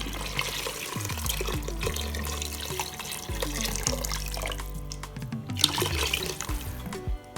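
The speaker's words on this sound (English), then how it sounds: "now we'll add water" Water runs and splashes steadily into a cooking pot of corn and beans, with a continuous gurgling pour and a few brief drips near the end.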